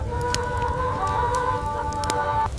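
Chickens cluck and a rooster calls on the straw-covered floor of a Viking longhouse, steady close fowl chatter with a few sharper squawks over a low rumbling background, no talk.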